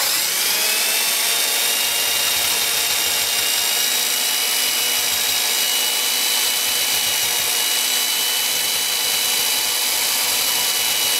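Milwaukee 5220 straight grinder running on a workpiece held in a vise, a loud, steady high-pitched whine and hiss that continues without a break.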